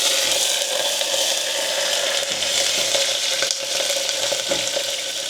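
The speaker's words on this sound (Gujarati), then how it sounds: "તો અહીંયા મેં રાઈને ફોડી લીધી છે" Mustard seeds and curry leaves sizzle steadily in hot oil for a tempering over white dhokla, a continuous bright frying hiss with occasional pops and crackles close up, no talking.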